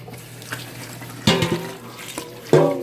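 Liquid from a chicken pho pot is poured out into a kitchen sink, with sharp splashing bursts and clatters at irregular intervals over a quiet background hiss, close and fairly loud.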